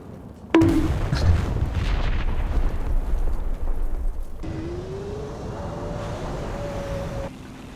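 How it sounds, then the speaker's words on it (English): A bomb detonating in the tank combat game War Thunder: a sudden heavy blast with a long rumbling roll-off, then steady engine drone with a rising whine from an armored vehicle. "That's a bomb, isn't it?"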